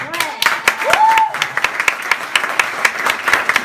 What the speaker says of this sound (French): j'aimerais qu'on applaudisse s'il vous plaît